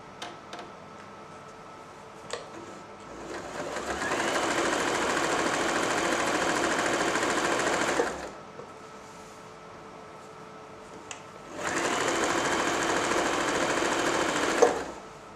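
Janome J3-24 sewing machine running a blind hem stitch: two sustained bursts of fast, even mechanical whirring and ticking close by, separated by a quiet pause, with small clicks between.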